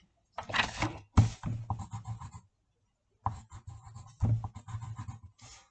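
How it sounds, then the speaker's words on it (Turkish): A frozen, ice-cold pen scratches across paper in two close bursts of quick strokes separated by a short pause, the dry scraping clear and near against a silent background. "Biraz donmuş kalemi yazalım."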